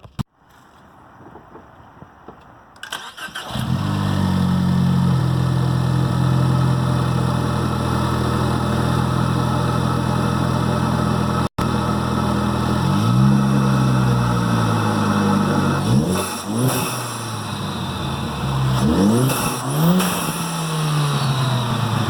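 A Ford Focus ST engine with an aftermarket Steeda intake cranks and starts, then idles loudly and steadily before several sharp revs climb and drop near the end.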